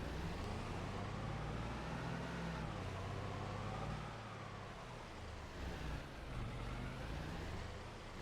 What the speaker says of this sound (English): Let's see if the truck can actually pull this one here or not.